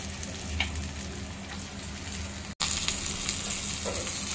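Chopped garlic and dried red chillies fry in hot oil for a fish curry tempering, giving a steady close sizzle that cuts out abruptly for a split second midway, then resumes with light crackles.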